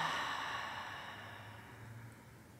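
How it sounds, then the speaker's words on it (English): During a morning yoga energy flow, a long, steady breath is pushed out through the mouth, a close, airy exhale that fades gradually, with no talk. "Exhale out through the mouth."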